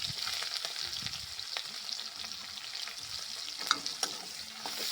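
Chopped ginger fries with garlic and chilli in a wok for prawn chilli, a busy sizzle under repeated scraping and clinking stirs, with a couple of louder knocks near the end.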